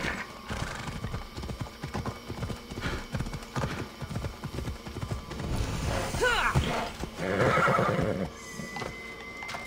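A horse in Assassin's Creed Odyssey, played on Xbox Series X, trots with rhythmic clip-clop hooves. Two loud neighs come near the middle, and game effects and a few voices sit in the mix.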